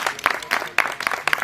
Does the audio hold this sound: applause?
yes